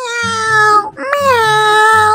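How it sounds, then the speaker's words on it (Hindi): A small kitten meows in a farm field, two long, drawn-out, steady cries separated by a brief pause, close and fairly loud with nothing else heard. "तब उसे एक बिल्ली की आवाज सुनाई दी।"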